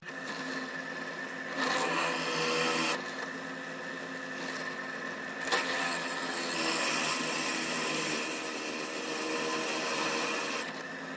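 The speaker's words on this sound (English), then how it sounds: "Let's see if we can get a hole to drill." A drill bores into the cut, center-punched end of a steel railroad spike in a home workshop, a steady whirring grind with a couple of changes in pitch and pressure, fairly close and without talk.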